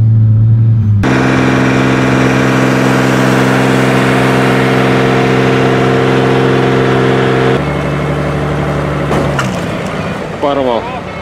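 An off-road 4x4's engine screams loudly and steadily against the rev limiter at around 8800 rpm while climbing a hard hill, holding a sustained high roar before the pitch drops and then cuts off with a few clattering knocks at the end.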